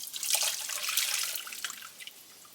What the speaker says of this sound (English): I'm going to start straining